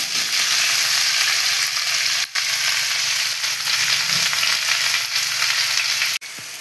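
Drumstick pieces sizzle with salt in a pan for a traditional Bengali shukto, a steady loud frying hiss throughout with a couple of brief dips, no voices.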